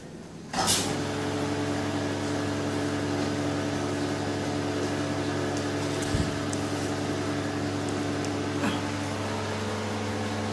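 A vacuum pump for resin infusion is switched on with a sharp click and settles into a steady, fairly loud mechanical drone and hum, with a couple of faint knocks over it and no talk.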